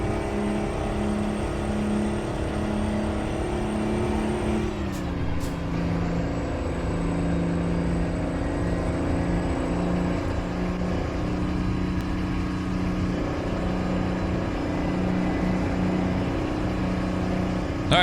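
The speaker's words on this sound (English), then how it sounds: "It's probably the sound of the truck." A truck engine in American Truck Simulator drones steadily and close while driving in Oklahoma, its pitch dipping briefly midway as if shifting gears, with a few faint clicks over the constant rumble.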